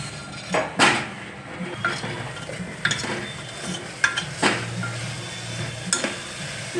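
Vegetables and guvar dhokla are sautéed in a pan. A spatula scrapes and clinks against the metal in irregular strokes over a soft sizzle, close and fairly loud, with no talking.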